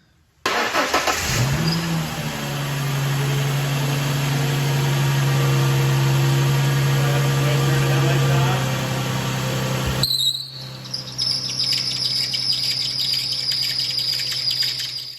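A Ford 3.8 engine with a loose belt idles steadily up close under the hood with a constant low hum and a faint whine, shifting slightly in tone near the end.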